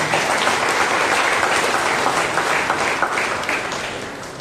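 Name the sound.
congregation applause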